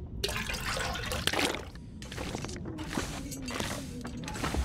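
Water being collected in The Long Dark: a splashing, trickling pour with mechanical clunks, a few bursts of rushing flow separated by brief pauses, moderately close.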